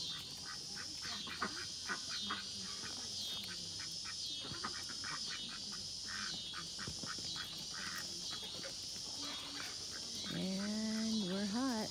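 Several ducks quack repeatedly inside a temporary pen of poultry netting over a steady high insect-like hum outdoors, with a louder burst of quacking toward the end.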